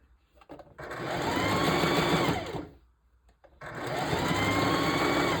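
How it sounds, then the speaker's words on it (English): Sewing machine stitching hair tracks onto a mesh dome cap, running in two sustained loud bursts separated by a brief pause, with a steady motor whir and no talking. "So watch how I sew here."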